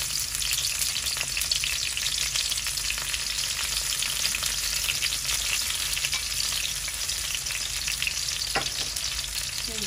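Garlic and onion frying in hot oil for a Bangladeshi prawn and red amaranth dish, a loud, steady, dense sizzle running without a break, with a few faint stirring clicks and no talking.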